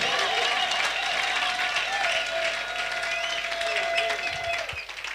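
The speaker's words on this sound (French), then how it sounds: "Est-ce qu'on peut les encourager avec vos acclamations?" Church congregation clapping and cheering together, a full sustained roar of applause with raised voices and a held shout riding on top, easing off at the end.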